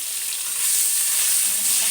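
Chopped tomato tipped into potatoes frying in hot oil, producing a loud, steady, bright sizzle that swells slightly and continues without any voices.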